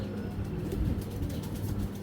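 Giribaz pigeons coo softly and continuously at close range, low throaty murmurs rising and falling over a faint background hum, with no voices.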